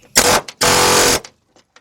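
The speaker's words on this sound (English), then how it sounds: "I can just grind that down" An angle grinder cuts into the metal floor pan of a Ford Mustang in two loud, close bursts, a short one followed by a longer steady one, with brief quiet between and after.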